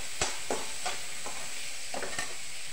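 Peas and spices fry in a pan, a bright continuous sizzle broken by several sharp scraping strokes of a spoon stirring, close and fairly quiet, with no voices.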